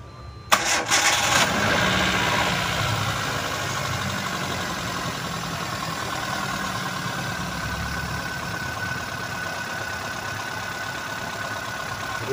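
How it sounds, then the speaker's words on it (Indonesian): A Hyundai i10 engine cranks briefly on a weak, freshly charged battery, catches, and settles into a steady, fairly loud idle that continues unbroken. "Kita mau coba starter, tes dulu."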